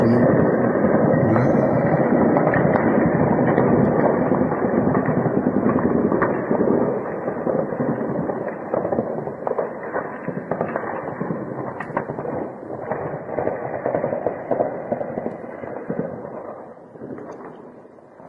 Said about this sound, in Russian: Это уже четвертый заход, где так, ну, по 3-4 минуты стреляют.